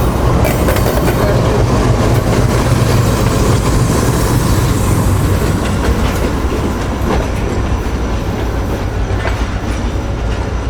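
Tezgam passenger train led by an HM30 locomotive runs on rails, a loud, continuous rumble with rhythmic clickety-clack of wheels over joints, heard steadily from on board with no talk.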